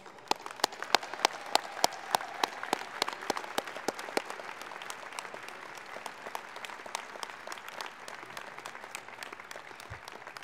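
Audience applause at a 2014 Heinz College diploma and awards ceremony, a dense, steady wash of many hands clapping in a large hall, sustained evenly for about ten seconds before thinning out near the end.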